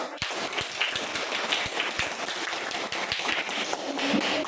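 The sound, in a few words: applause, students clapping in class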